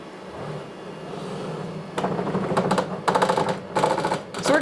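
An embroidery machine stitches the outermost outline of a bottom felt and glitter appliqué for a letterman jacket name, a steady rapid mechanical chatter that grows louder and busier partway through, close up.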